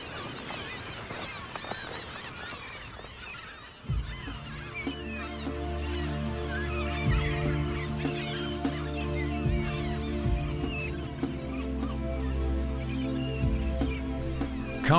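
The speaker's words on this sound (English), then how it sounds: "the gulls begin to gather" Gulls gather over a Staten Island landfill, a dense chorus of honking and squawking calls layered over a low rumbling drone, busy and continuous once it swells in.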